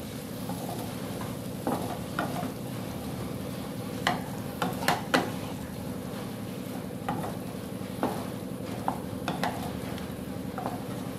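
A cauliflower, pea and carrot vegetable mix with green chillies stirred and fried in a pan, a steady sizzle broken by repeated scraping and clinking spoon strokes against the metal.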